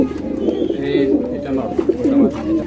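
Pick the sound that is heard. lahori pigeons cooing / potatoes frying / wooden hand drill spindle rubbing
lahori pigeons cooing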